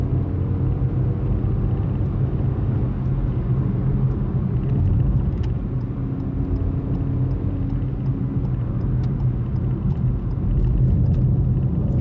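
Ford Fiesta Trend 1.1 hatchback being driven on a test route, its small petrol engine giving a steady low cabin drone and road rumble, unbroken and fairly loud throughout, with no voices.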